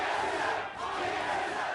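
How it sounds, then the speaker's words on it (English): Esports arena crowd at a League of Legends match, NA LCS Summer 2016, Immortals versus Team SoloMid: a steady, dense roar of cheering and shouting from a large indoor audience, with no pauses throughout. "Pretty evened out crowd."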